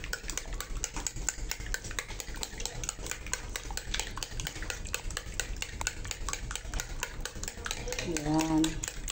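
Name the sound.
stirring pancake batter in a bowl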